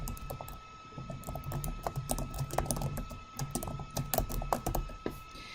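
A chart title typed on a computer keyboard, with rapid irregular clicking keystrokes close by, steady and moderately quiet, with brief pauses between runs.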